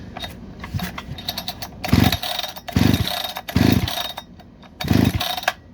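A Holzfforma G288 chainsaw being pull-started, four loud rasping recoil-cord pulls at a steady rhythm with brief pauses between, up close, without the engine catching.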